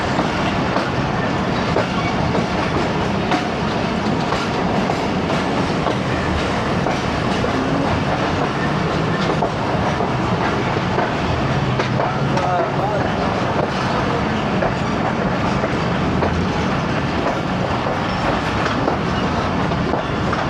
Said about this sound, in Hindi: गुजरात पहुंच रही है ट्रेन